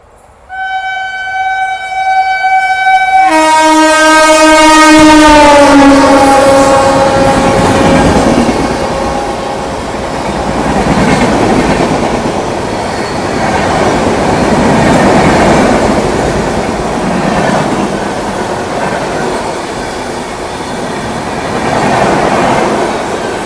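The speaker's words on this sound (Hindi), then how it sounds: "ये आ गई AP एक्सप्रेस ओवरटेक मारने।" AP Express train overtaking at night on an Indian railway, opening with a loud sustained horn blast, then the close, heavy roar and rhythmic clatter of passing coaches rolling by without pause.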